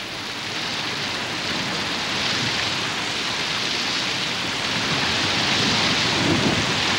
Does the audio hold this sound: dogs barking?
no